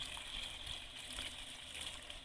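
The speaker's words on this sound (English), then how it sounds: "This is water. It's coming straight out of my deep well." Water from a deep well rushing out of a pipe in rural South Georgia, a steady, continuous stream with an even hiss, close and alone without talk.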